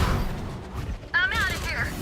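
Weapon reload in the video game Valorant, a short run of mechanical clicks and a metallic slide over a busy game mix, with a voice briefly heard over it.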